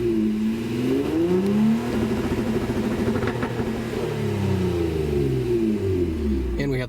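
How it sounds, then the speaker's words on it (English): A 2016 Honda Accord coupe with a Borla exhaust revs up and down through rising and falling engine sweeps, loud and close, with no talking over it. "Of course, we still have my Borla exhaust."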